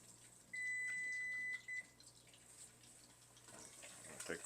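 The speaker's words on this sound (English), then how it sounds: "The timer's just about to go off." A kitchen timer beeps in a steady tone for about a second, then a shorter beep follows, while pork belly for mei cai kau rou fries in a pan underneath with a faint steady sizzle and background hum.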